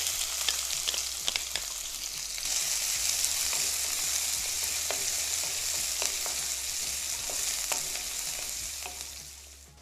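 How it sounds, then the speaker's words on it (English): Chopped onions fry in hot oil with spluttering cumin seeds, a loud, continuous sizzle and crackle with scattered pops, close and unbroken, no voices. "To the spluttering cumin seeds, now we're going to add in chopped onions"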